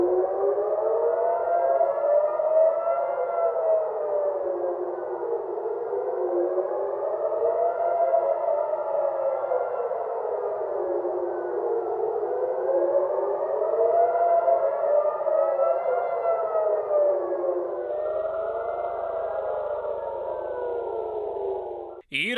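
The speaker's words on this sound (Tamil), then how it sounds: "பொதுமக்களுக்கு அறிவுறுத்தல் வழங்கும் வகையில் எச்சரிக்கை சைரன்கள் ஒலிக்கப்பட்டன" Civil defense warning sirens wail across Tel Aviv, Israel, with a loud, sustained tone that rises and falls in slow cycles of about five seconds, repeating steadily with no voices over it.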